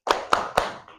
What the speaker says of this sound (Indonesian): Tepuk semangat velocity.